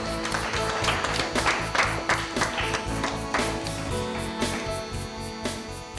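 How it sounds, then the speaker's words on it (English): Clapping from an audience at a science quiz show for a school quiz team, a rhythmic, fairly loud patter of hands with a steady tonal music bed running underneath. "Big round of applause for them, please."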